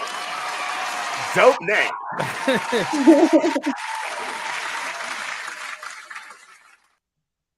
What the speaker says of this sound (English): Round of applause for Kilohertz.